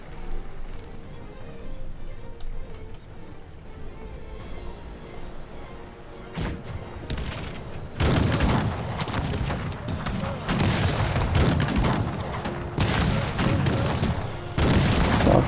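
Gunfire and artillery from a Cossacks 3 battle during an assault on the port of Gigely, with booming cannon blasts and crackling musket volleys. It starts as a quieter rumble, then turns loud and sustained with repeated bursts.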